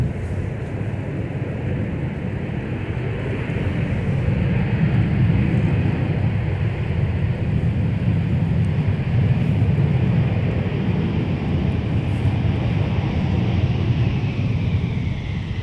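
An Air France Boeing 787-9 Dreamliner taxiing at Minneapolis–St. Paul airport gives off a steady, broad jet-engine rumble and whine that holds fairly constant and moderately loud, with no voices.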